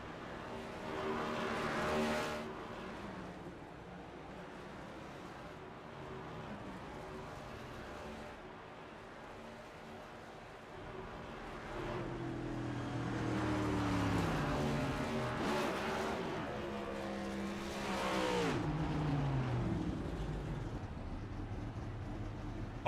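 Race cars in a sim racing game roar down the front straightaway at Sonoma Raceway, engines rising and falling through gear shifts as cars pass in sequence, with continuous loud motor drone and occasional sweeping pitch changes.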